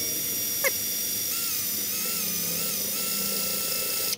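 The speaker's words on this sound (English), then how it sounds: "He's just drilling out the ground." A high-pitched drill whines steadily while drilling out a ground on a 454 big block engine fitted with 305 small block heads, a near, continuous tonal buzz with slight pitch wavers throughout.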